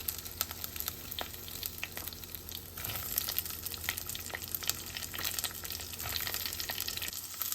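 Mustard seeds, cumin, fenugreek, green chillies, curry leaves and onion fry in hot oil for a vegetable fish sothi, giving a steady close sizzle with crackles, popping and occasional stirring throughout.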